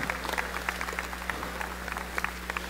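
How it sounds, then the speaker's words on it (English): An audience in a coaching clinic gives a short, moderate round of scattered clapping over a steady low hum. "So maybe give him another round of applause."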